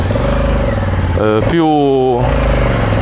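A Honda Africa Twin motorcycle engine runs close up, loud and steady, with a quick rev that rises and falls before settling back to a rumbling idle.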